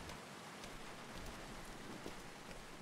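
Rain in the Beyond: Two Souls video game, a steady dense hiss of falling drops spattering on surfaces, with scattered louder individual splats, constant and enveloping with no voices.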